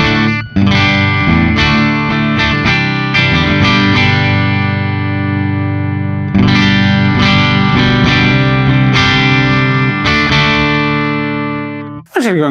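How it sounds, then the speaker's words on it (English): Electric guitar runs through an ENGL Cabloader IR pedal on a slightly driven clean channel of Fender Blackface character, playing sustained strummed chords, loud and continuous, with a brief drop near the end. "So like a fairly standard kind of guitar into a IR loader sound."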